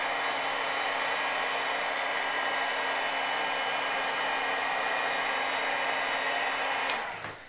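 A heat tool blows steadily and loudly for about seven seconds as it heat-sets marker ink on cardstock, then switches off and quickly winds down into quiet, with no voices.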